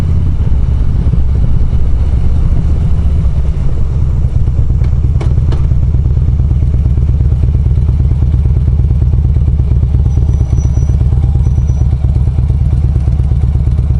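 A hot-running Harley-Davidson motorcycle engine idles with a steady low rumble, broken by a few sharp pops and cracks around the middle, up close and loud with no talking.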